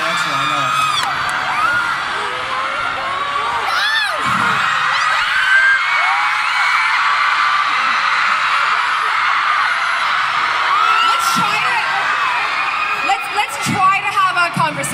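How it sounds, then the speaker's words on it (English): An indoor crowd of fans at a celebrity signing event screams and whoops continuously and loudly, with overlapping shrill voices and bursts of yelling throughout. "I appreciate you screaming."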